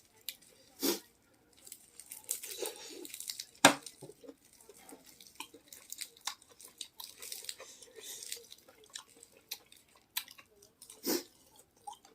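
Soft, close chewing while eating eggs, scattered mouth sounds and a few sharper clicks of dishes or utensils, with brief talking between bites.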